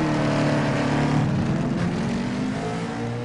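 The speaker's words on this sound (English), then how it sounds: "when you hear the engine rev up like that" A race car engine revs hard at Infineon Raceway, a loud, steady, close roar with rising pitch that holds through the whole moment and eases slightly at the end, with no talk over it.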